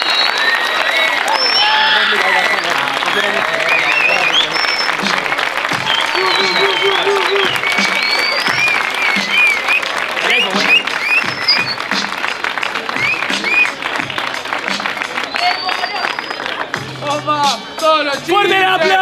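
Loud, sustained applause and crowd noise after the final of a freestyle rap battle tournament, with shouting voices and whistles over the clapping and a brief dip near the end.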